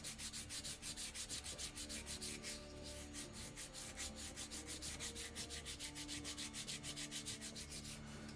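Hand sanding of a wooden model, a close, rhythmic back-and-forth rasp repeating evenly in quick strokes, with one short pause partway through.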